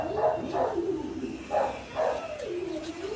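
A few yelping dog barks, spaced irregularly, with soft background noise and a faint steady hum.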